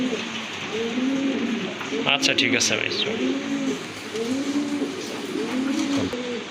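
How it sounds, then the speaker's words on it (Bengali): Large fancy pigeons coo close by in steady, repeated rolling phrases, with someone speaking briefly over them partway through. "আরেক জোড়া কবুতর দেখতে পাচ্ছেন মুন্ডিয়ার অনেক বড় সাইজের কবুতর"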